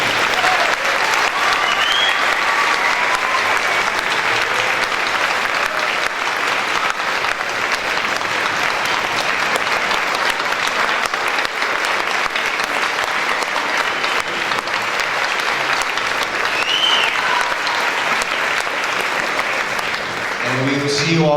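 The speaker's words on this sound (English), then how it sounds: "Let's have one more round of applause this evening for the class of 2014." Sustained applause from a large audience at a 2014 senior awards night fills the room, dense and even clapping that carries on for about twenty seconds with no break.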